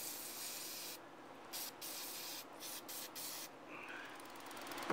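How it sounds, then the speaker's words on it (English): Carb cleaner sprays in short hissing bursts onto a gunked-up starter bearing from a Vespa ET4 150cc, several quick pulses of hiss close up with brief pauses between them. "I hate to take carb cleaner to it, but it's so gunked up"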